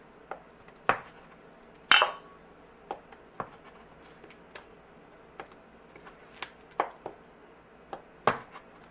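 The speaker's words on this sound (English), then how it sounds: "Now we're going to take our cheese and we're just going to cube up the cheese" A knife cuts a block of cheese into cubes on a board for macaroni and cheese, giving sparse, sharp taps and clicks spaced about a second apart, quiet and close with no talking.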